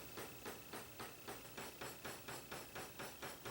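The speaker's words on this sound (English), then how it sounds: "with a ball peen hammer, I start gently pounding over the back of the tang." A ball peen hammer gently pounding the back of a steel dagger tang made from an old file, about a dozen even, steady blows at a brisk rhythm over a constant background hum.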